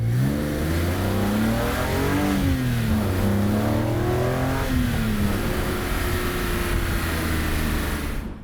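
A BMW E46 M3 with its S54 straight-six and an Eventuri cold air intake revs loudly and steadily, the engine note rising and falling in smooth sweeps with no talk over it.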